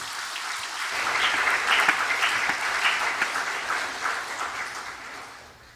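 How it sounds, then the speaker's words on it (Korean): A church congregation at a Korean Sunday worship service claps warmly, applause swelling from quiet to a full, steady wash before fading. "박수 한번 해주시기 바랍니다"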